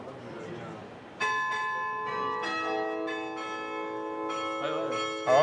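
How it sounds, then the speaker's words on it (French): An automatic church carillon in a town in the North of France chimes the half hour, a sequence of clear ringing bell tones with long sustain, sounding near and loud, with faint voices beneath. "Alors on entend le carillon automatique"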